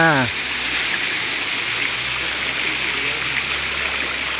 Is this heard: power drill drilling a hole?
no